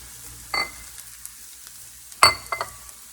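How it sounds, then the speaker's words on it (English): Chopped garlic, about five large cloves, hits a hot pan, giving a faint, steady sizzle broken by two sharp clattering bursts, with no talking. "So now I'm going to add, these were about 5 cloves, large cloves of garlic. Just chopped up."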